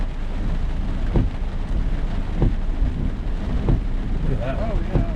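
A thunderstorm during a summer night of intense lightning brings steady heavy rain hissing across the scene, with several low rumbles of thunder rolling in at intervals; a voice is faintly heard near the end.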